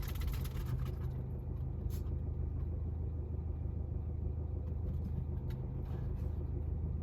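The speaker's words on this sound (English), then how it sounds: "she's got quite a few cars coming actually" Cars pass along a country road beside a horse out on a solo hack, a steady low traffic rumble running throughout at moderate distance with no talk.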